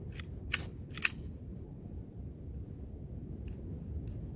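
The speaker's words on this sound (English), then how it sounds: "Positive clicks on the safety" Safety on a Sig Sauer P320 X-Carry CO2 pistol being flicked, two sharp, close clicks about half a second apart, then fainter small clicks later over a quiet background hiss.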